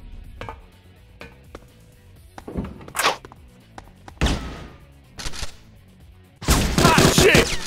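Gunfire in the Bad Boys: Miami Takedown video game comes as scattered sharp bangs and thuds that build into a dense, loud burst of continuous shooting near the end.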